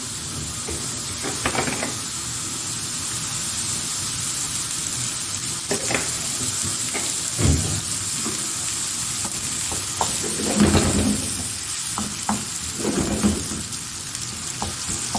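Onions frying in oil in a pan for an Arabian egg omelet, a constant loud sizzle with occasional stirring scrapes and soft knocks, close by and without talk.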